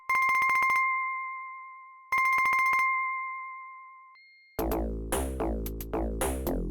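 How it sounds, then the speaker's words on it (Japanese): A synthesized telephone ring from the PC-88 game Destruction: two bursts of rapid electronic trilling beeps separated by a pause, each trailing off, followed by chiptune music. "電話が鳴っている。"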